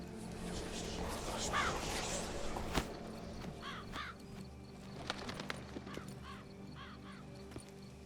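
Crows caw in the video game The Witcher 3: Blood and Wine. Short bursts of paired harsh calls come at intervals from a moderate distance, over soft outdoor game ambience with occasional footstep-like clops.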